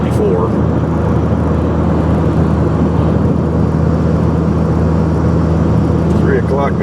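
A car cruises at 64 mph on a road nearly empty of traffic, with a loud, steady roar of engine and tires close by and no break for the whole stretch.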